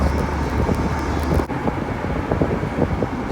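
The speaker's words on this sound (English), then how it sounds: "A lot more intake noise whenever I hit the gas pedal" A Jeep Wrangler TJ engine with a cold air intake rumbles steadily up close, with low intake roar and wind buffeting throughout, a brief dip midway before the drone resumes.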